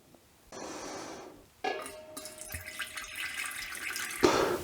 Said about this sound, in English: I'm going to put it into a large saucepan just to use as a mixing vessel.